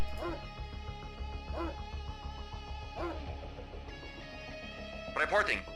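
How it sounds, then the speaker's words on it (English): Attack dog in the strategy game Command & Conquer: Red Alert gives a few short barks and yelps spaced about a second apart, mixed with game music and battle noise, ending in a sharper burst. "dog can definitely jump."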